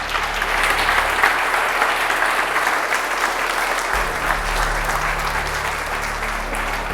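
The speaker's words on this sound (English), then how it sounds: "Give them a round of applause" Applause from a crowd at a youth hockey event as coaches lead their teams in, sustained loud clapping that fills the whole stretch, with a low rumble entering partway through.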